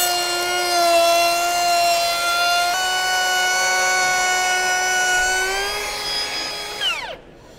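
A Milwaukee cordless trim router spins up and runs at steady high speed, a loud whining tone with stacked harmonics that shifts pitch partway through, then winds down and stops near the end, with no voices.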